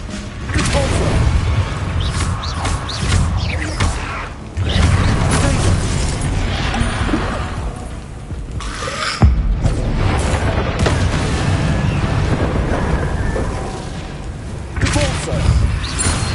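Repulsor spell blasts from Hogwarts Legacy, a run of loud, booming thuds and whooshing bursts one after another, with dense magical crackle and continuous combat noise throughout.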